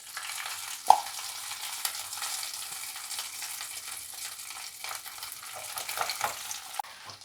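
Mashed potatoes go into hot oil already seasoned with panch phoron for a winter evening snack, giving a soft, steady sizzle with light stirring scrapes and one sharp clack near the start.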